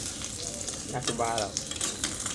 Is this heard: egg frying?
yes